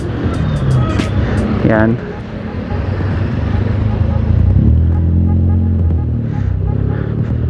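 Nmax 155 scooter engine rising in pitch and volume as it accelerates, a steady close-up drone with wind and traffic noise, under brief talk from the rider.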